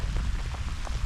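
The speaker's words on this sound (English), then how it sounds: "it's not hailing, so it's just rain, so I can stand that" Steady rain during a storm patters densely on a surface outdoors on an overnight fly fishing trip, close and continuous throughout.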